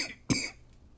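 A single short, close cough rings out against near silence, one sharp burst with nothing following it.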